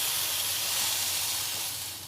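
Eggplant pieces sizzling in hot oil while frying for a hilsa fish curry, a steady broadband hiss that fades slightly toward the end, close and continuous with no talk.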